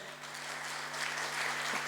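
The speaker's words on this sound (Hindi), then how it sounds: "सबके लिए जोरदार तालियां हो जाए" Audience applause at an indoor business gathering, a continuous wash of clapping over a steady low hum, brief and fairly even in loudness.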